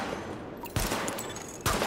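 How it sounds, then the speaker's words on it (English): Gunfire at highlighted targets in the video game The Division, a few sharp shot bursts spaced across two seconds over a quiet game background. "Open fire at the highlighted targets."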